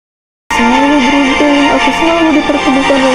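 A recorded affirmation music track starts abruptly and plays loudly and steadily, with a sustained melodic tone wavering over a dense ambient pad.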